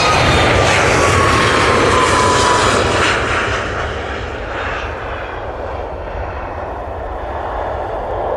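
Ryanair jet airliner at Manchester Airport, its engines roaring loudly, then fading gradually as it moves away, a broad steady rumble with a faint whine, and no voices.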